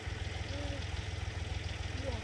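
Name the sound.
tractor engine running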